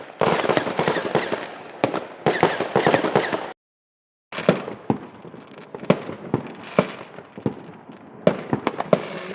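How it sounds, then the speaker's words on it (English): New Year's Eve fireworks go off after midnight in Sweden, loud crackling bursts and sharp bangs in rapid clusters, with a brief silent gap and then more scattered pops and crackles, close and far. "It's like 10 past midnight and there's still fireworks going off."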